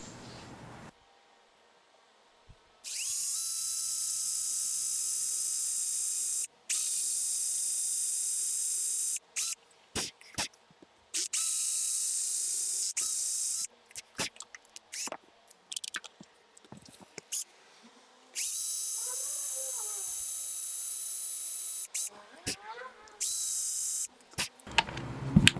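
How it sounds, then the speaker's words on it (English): A drill bit bores weight holes into a wooden pike lure body in long steady whirring bursts, followed by many short, choppy stop-start runs. "So get to working on basically boring out the weight holes"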